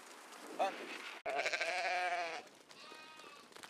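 Sheep on Suduroy in the Faroe Islands bleat up close in several wavering, drawn-out calls, one long and loud, with a quieter bleat trailing after it in a calm outdoor setting.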